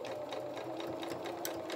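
Close, steady whir of a sewing machine stitching along the fabric edge of a sewn otter toy's head, a continuous motor drone with a rapid needle rhythm and no voices.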